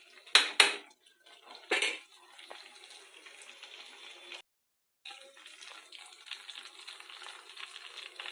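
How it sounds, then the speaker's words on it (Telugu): Ginger-chili paste frying in oil, a soft crackling sizzle that runs on after a few sharp clatters of utensils and pan, with a brief silent gap midway, no voices. "ఒక 2 నిమిషాల పాటు ఈ పేస్ట్ని ఆయిల్తో ఫ్రై అవనిద్దామండి"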